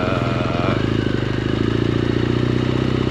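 A BMW GS 1200 LC motorcycle fitted with a slip-on exhaust idles loud and close, its engine thumping in a steady, rapid pulse with a slight rise in revs, no speech.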